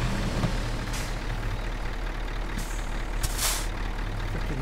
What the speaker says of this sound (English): No, parking brake.